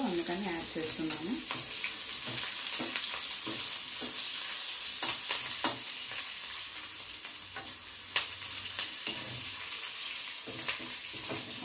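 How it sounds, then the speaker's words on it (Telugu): Chopped onions with salt and curry leaves fry in a pan, a dense sizzle broken by frequent scraping and stirring clatters, continuous and close. "కరివేపాకు వేసి బాగా వేయించుకోండి."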